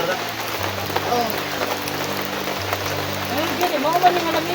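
Steady rain patters on surfaces in a rural mountain setting, with a low droning hum and scattered voices in the background.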